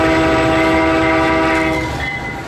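The Canadian, a 1950s-built stainless steel Canadian Pacific passenger train now run by Via, pulls away with a loud sustained horn blast over rumbling cars and faint clickety-clack, the horn easing off toward the end.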